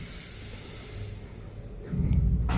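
A pressurised fuel line on a Toyota Supra Mk3 hisses from a leak during a pressure test: a sharp, steady spray-like hiss for about a second, then a quieter stretch and a broader, louder rush near the end.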